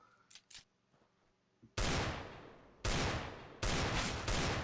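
Gunfire in a Counter-Strike: Global Offensive 1v1 match: after a few faint clicks, three loud, close bursts of rapid shots ring out, each cut off abruptly.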